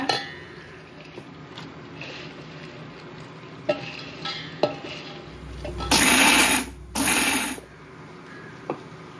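Sweet boondi being ground into powder for Tirupati laddu: a few scattered clinks and taps, then two short loud whirring bursts of a grinder separated by a brief pause.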